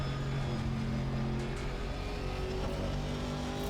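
A GT4 race car engine in the video game Assetto Corsa Competizione drones steadily at high revs, a dense continuous roar with a constant pitch throughout.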